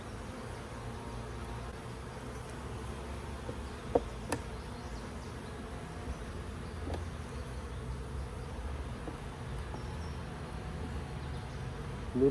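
Honey bees swarm over opened frames in an apiary hive during an inspection. Their dense, steady buzz runs continuously, with a couple of faint knocks.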